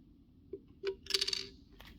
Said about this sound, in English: Slide on a flat washer